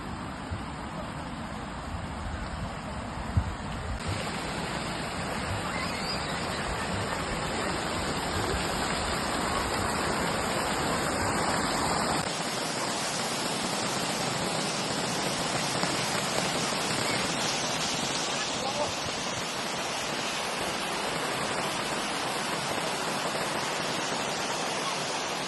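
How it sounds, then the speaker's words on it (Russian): An arched fountain in Krasnodar's Galitsky park splashes continuously, a dense rain-like hiss of falling water that stays steady and close the whole time. "Вы увидите арочный фонтан."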